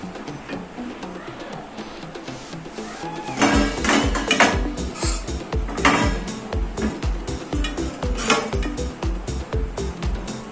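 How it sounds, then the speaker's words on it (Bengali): Warm sooji mixture is transferred onto a plate, bringing a run of clattering utensil-on-dish knocks, scrapes and clinks that grows louder and more rhythmic partway through. "এবার আমি এটা একটা প্লেটে ঢেলে নিচ্ছি।"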